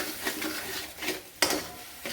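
Masala frying in oil in a pan for dabuvada bhaji, a steady soft sizzle broken by a few louder stirring scrapes and clinks, close by with no talking.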